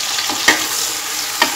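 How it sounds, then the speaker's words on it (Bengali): Chopped onion fries in oil already used for frying fish, a continuous close sizzle broken by two brief stirring scrapes. "মাছ ভাজার তেলে আমি এইবারে পেঁয়াজ কুচি, এখানে আমি একটি মিডিয়াম সাইজের পেঁয়াজ কুচি দিয়ে দিই।"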